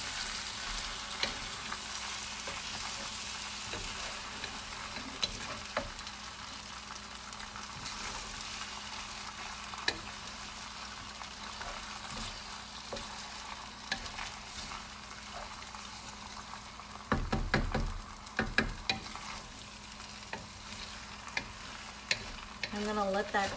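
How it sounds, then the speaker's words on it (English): Drunken noodles sizzling steadily in a hot pan while being stirred, a constant close frying hiss with scattered spatula scrapes and pops, and a louder clattering stir burst partway through. "I'm going to give it a quick stir."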